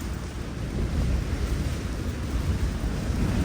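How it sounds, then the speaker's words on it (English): Wind and waves rocking a yacht at anchor during a storm off Atlantic City, a continuous low rumble of surf with blustery wind noise on the microphone, steady and fairly loud, with no voices. "controlled by the wind and the waves"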